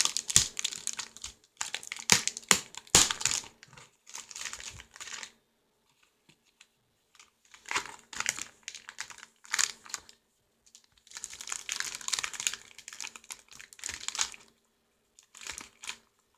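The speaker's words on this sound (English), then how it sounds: "we'll undo the tape over here" Packing tape being peeled and pulled off a collector's edition package in bursts of crinkling, tearing and tapping, separated by short silent pauses, close up.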